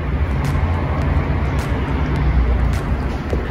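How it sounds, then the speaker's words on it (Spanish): A Ford Fiesta Kinetic Titanium with a 1.6-litre petrol engine driving along, heard as a low steady road and engine rumble with occasional faint clicks, fairly quiet throughout. "Lo probamos, el auto anda muy bien, no hace un solo ruido al andar."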